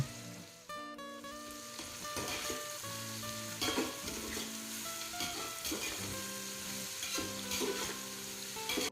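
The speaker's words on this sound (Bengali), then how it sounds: "পেঁয়াজটা যেরকম ভাজার দরকার সেরকম হয়ে গেছে" Sliced onions fry in a pan for a traditional Bengali meat hotchpotch, a soft continuous sizzle with occasional stirring scrapes, faint beneath steady background music.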